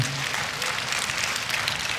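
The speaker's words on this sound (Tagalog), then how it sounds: "Wala bang palakpak sa Panginoon sa bagay na yan?" A church congregation applauds during a sermon, a steady wash of dense clapping at moderate level with no talk over it.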